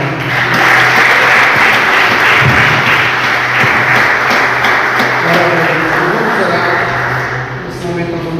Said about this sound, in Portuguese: as palmas louvam e adoram ao Senhor